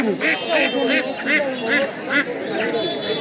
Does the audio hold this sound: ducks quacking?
yes